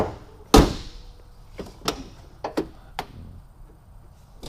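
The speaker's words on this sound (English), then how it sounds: "Tailgate opens like that" A station wagon tailgate swings open with one loud mechanical clunk, followed by several lighter latch clicks and taps from the rear of the car.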